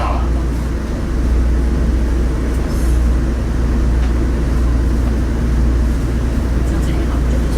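A Jiji Line train in Taiwan runs with a steady low rumble and rail noise throughout, loud and continuous from inside or near the train, with people talking over it.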